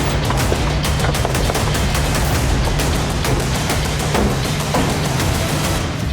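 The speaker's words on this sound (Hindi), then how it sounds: "सर पक्का गोली चलने की आवाज़ थी" Rapid, dense gunfire crackles continuously in a sustained burst, with sharp repeated cracks over a rumbling background, loud throughout.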